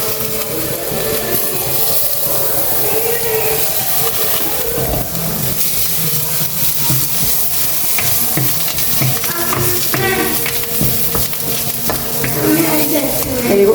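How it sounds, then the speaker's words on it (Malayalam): Curry leaves fry with sautéed onions in a pan for a potato kurma, giving a loud, continuous close-up sizzle broken by the scrape and clatter of stirring, with no talking. "ഇപ്പോൾ ഉള്ളി ഏകദേശം വഴന്ന് വന്നിട്ടുണ്ട്. ഇനി നമുക്ക് ഇതിലേക്ക് കുറച്ച് കറിവേപ്പില ചേർക്കണം."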